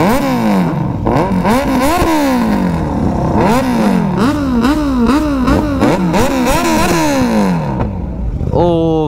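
A Z900 superbike engine is revved hard on a highway, repeated loud, close throttle blips rising and falling in quick succession, ending with a final sharp rev.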